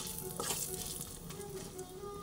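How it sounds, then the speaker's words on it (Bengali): Spices and turmeric powder fry together in a pan over a low flame, producing a close, continuous crackling sizzle with a brief scrape of stirring partway through. "সব দিয়ে গ্যাসের ফ্লেমটা একদম কমিয়ে নিয়ে সব একসঙ্গে ভেজে নিচ্ছি"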